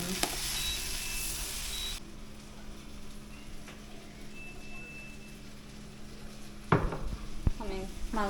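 Onions sizzling and charring in a hot pan, a steady close crackle that drops in level after a couple of seconds, followed near the end by clanking utensil and pan knocks with faint voices.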